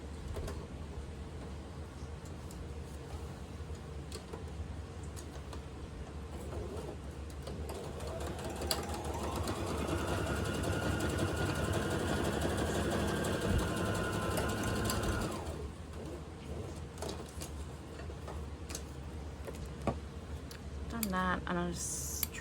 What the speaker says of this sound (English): I'm just going to sew across the top here